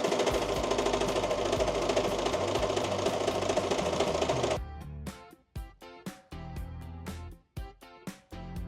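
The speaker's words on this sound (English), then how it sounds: "I'm just going to use my serger to sew that center back seam" A serger stitches a dress's center back seam with a rapid continuous mechanical whir for several seconds, then falls into short stop-start bursts of stitching.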